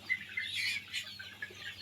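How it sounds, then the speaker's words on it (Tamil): Chickens on a poultry farm housing about 4000 birds, a continuous overlapping chorus of clucks and chirps from a large flock, steady and moderately loud with no talk. "கிட்டத்தட்ட ஒரு 4000 கோழிகள் இங்கே இருக்குது."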